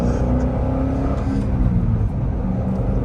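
A C6 Corvette Grand Sport's LS V8 engine revs up at about 30% throttle, a deep, steady rumbling drone that grows throughout, close and loud.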